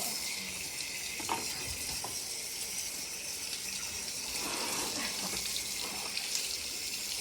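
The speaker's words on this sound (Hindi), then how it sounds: "हाथ पहली बार धो रही कपड़ा।" Cloth washed by hand under running water, a continuous close hiss of flowing water with faint splashing and rubbing sounds, steady throughout with no talking.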